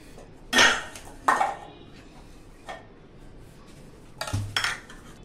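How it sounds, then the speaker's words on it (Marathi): A chocolate mold filled with melted homemade chocolate knocked against a surface: a few sharp, hollow taps spaced irregularly, with a quick pair near the end. "हा पण असा टॅप करायचा"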